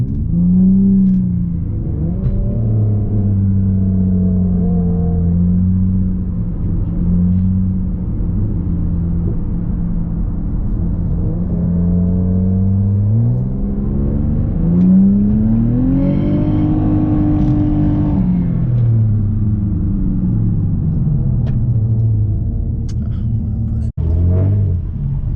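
Tuned seventh-generation Nissan Maxima engine running close by, a steady low idle rumble that rises into a brief rev midway before settling back, with no talk.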